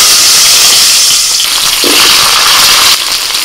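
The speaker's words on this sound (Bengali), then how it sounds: "আলুটা ভেজে নেবো, কড়াই সর্ষের তেল দিয়ে দিচ্ছি" Potatoes fry in mustard oil in a wok, giving a loud, continuous hiss and sizzle that holds steady throughout, with no talk.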